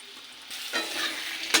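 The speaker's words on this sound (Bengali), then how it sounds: "আলুটাকে একটু ভেজে তারপরে দেবো" Potatoes frying in hot oil in a wok after a cumin tempering, a loud sizzle rising as they go in, with stirring scrapes and a sharp clatter at the end.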